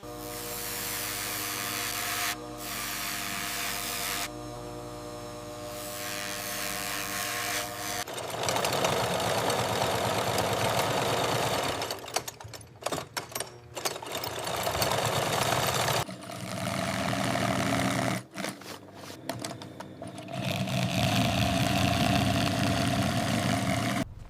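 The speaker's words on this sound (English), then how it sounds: "high-speed CNC vacuum tables cut out jacket panels with zero waste" A CNC vacuum cutting table cutting python-skin jacket panels runs with a steady loud whir and engine-like drone, shifting in pitch and intensity, with brief cutoffs and bursts of hissing noise.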